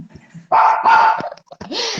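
A pet dog barks loudly and close by indoors, giving a couple of sharp barks followed by a rising whine-like yelp, with no voices over it.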